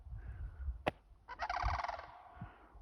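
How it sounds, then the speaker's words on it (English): Large noisy birds seen along Highway 43 near the 93-43 intersection give loud gobbling, turkey-like calls: a sharp single note, then a long rattling burst, over outdoor rumble. "It's the second time I've seen these big birds."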